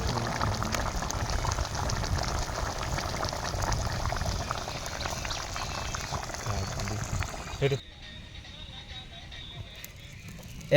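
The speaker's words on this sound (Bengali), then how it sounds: "জল ফুটে উঠেছে, এর মধ্যে দেব তেঁতুল জল।" Tamarind water bubbles at a rolling boil in a pot, making a dense, continuous bubbling that drops abruptly to a quieter simmer after about eight seconds.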